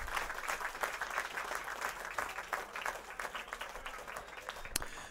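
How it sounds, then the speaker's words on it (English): An applause sound effect fired from a Stream Deck soundboard during a live stream: crowd clapping with distinct individual claps, moderately quiet and fairly even, ending with a sharp click. "There's the applause."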